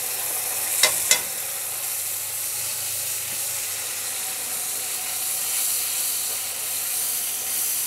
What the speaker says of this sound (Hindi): देखिए काफ़ी अच्छा मसाला भुन चुका है